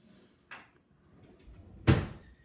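A drawer being opened and closed in a home, a light scrape followed by a louder wooden knock and brief rattle, close by with no talking.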